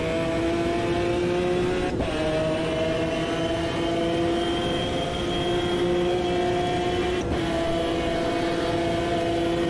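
A McLaren race car engine roars in Automobilista 2 during an endurance race, a sustained high-pitched drone with steady tone and two brief gear-shift dips, loud and close with no talk.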